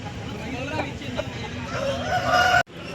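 A rooster crows close by at the Pileru hen market, its strained call rising near the end over a steady murmur of crowd chatter and other fowl.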